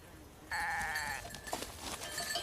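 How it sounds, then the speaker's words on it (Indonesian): A herd of goats foraging with three herders outdoors, heard as a single drawn-out bleat of moderate volume over steady background noise, followed by fainter rustling. "Dan itu adalah segerombolan kambing yang tengah mencari makan"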